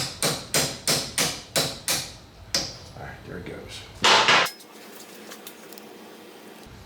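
A punch struck with a hammer drives out a rear brake pad pin on a BMW K1600 motorcycle: about seven sharp, evenly spaced metallic hits close up, then a louder clink as the pin frees, with someone talking briefly.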